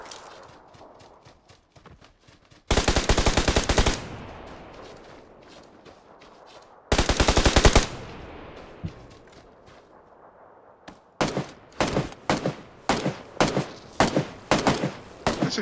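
Automatic gunfire in the battle royale game PUBG Lite: two long, loud sustained bursts separated by quieter game ambience, then a rapid run of short, sharp shots near the end.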